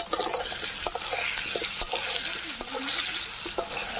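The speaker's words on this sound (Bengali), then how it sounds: "ফোড়ন দিয়ে দেবো" Cumin, bay leaf and dried chilli are tempered in hot oil, giving a loud, continuous hissing sizzle with light scraping and stirring knocks scattered through it.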